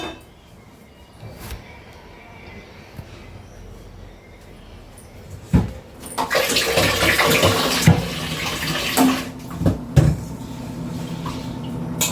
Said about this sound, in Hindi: इनको मैं 2 से 3 बार फिर से धो लेती हूँ